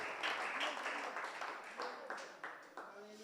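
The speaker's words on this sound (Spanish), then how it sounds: "Le damos a Dios aplauso por su discipulado" A church congregation at a Sunday service claps in a sustained round of applause that gradually tapers, with voices mixed in beneath it.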